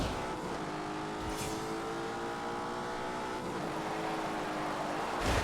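A twin-turbo 4-litre V8 producing 510 horsepower in The Grand Tour Game, engine note droning steadily at moderate volume with a gear change midway and a brief tire noise at the end.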